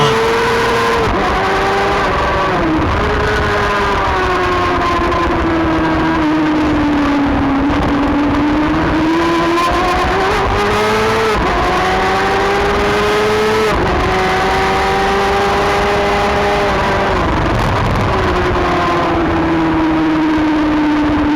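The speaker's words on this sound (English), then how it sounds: "McMurtry and Mills touch as they go round out of the corner, and Mills keeping the bike upright" Racing motorcycles in a Formula Femme final sweep round a track corner, engines loud and close with continuous high revving that rises and falls as the bikes brake and accelerate through the bend.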